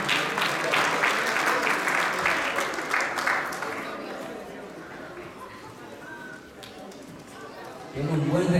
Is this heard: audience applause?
yes